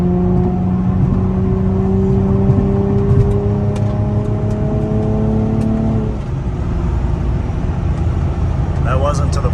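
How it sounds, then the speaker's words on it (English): A 2007 Infiniti G35 Coupe's exhaust heard from inside the car with the windows up while it accelerates: a loud, steady engine drone climbing in pitch, then dropping briefly around the gear change. "I assume you guys are going to be able to hear that exhaust pretty well in this video, even with the windows up."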